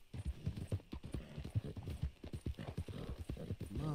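Rapid, steady clip-clop of horse hooves at a gallop in the video game Red Dead Redemption 2, close and prominent, with a faint snort near the end.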